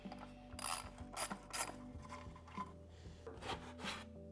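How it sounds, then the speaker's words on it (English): A hand ratchet clicks in short bursts as it loosens the skid plate bolts on a Stark Varg electric motorbike, quiet and close, with brief pauses between strokes and no voices. "we're going to take off the skid plate by removing the 4 bolts."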